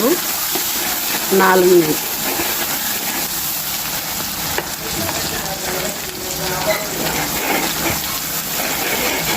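Dried red chillies and tempering spices sizzle and fry steadily in hot oil for a South Indian chanagaku pachadi, a continuous close crackling hiss with a brief stir early on and a short spoken word.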